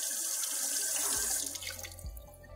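Water rushes from a garden hose tap fitted with a vacuum breaker during a functional test, a steady hissing flow that thins into splashing and gurgling near the end, close and alone.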